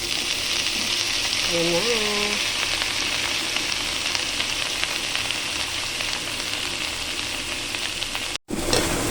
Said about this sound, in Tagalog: Next natin ilalagay yung repolyo na gulay. Ilalagay natin yung repolyo guys.